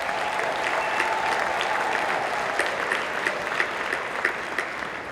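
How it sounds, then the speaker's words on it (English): Men in a conference closing-ceremony audience applaud the women present, a dense, steady round of clapping that holds at an even level with scattered sharper claps. "I want all the males, if you agree, and kindly cooperate with me, to applaud all the women in our audience"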